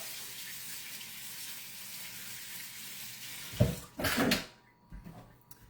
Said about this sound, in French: Et là, je regarde ma spatule, donc je la lave.